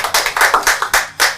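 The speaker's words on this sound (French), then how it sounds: "on va l'applaudir" A few people clap for a guest on a TV show set, with sparse, distinct hand claps in an uneven rhythm, close and fairly loud, about eight claps in under two seconds.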